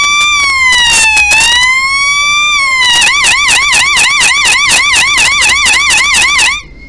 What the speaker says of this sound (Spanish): vamos a ver un video cómo hacer una sirena, sonido policía y de sirena